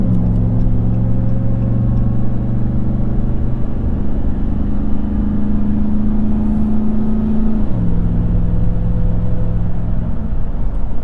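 A 2021 Ram TRX truck cruises on the highway near 72 mph with a steady, loud engine drone and low rumble. The tone shifts briefly once partway through.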